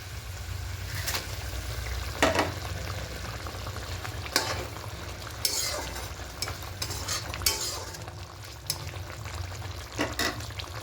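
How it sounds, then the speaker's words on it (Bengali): Pieces of bhola fish cook in a simmering spicy curry, giving a steady soft bubbling and sizzle with occasional light clinks and scrapes of stirring, close and quiet with no talking. "এবার একটু জলটাকে ফুটতে ফুটতে শুরু করে দিয়েছে এবার এই সময়তে মাছগুলো দিয়ে দেবো"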